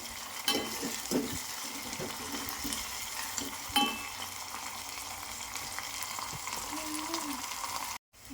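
Ingredients frying in a pan until brownish for a chukka kura dal dish, a steady sizzle with clinks of a stirring spoon against the pan. A faint voice shows briefly near the end.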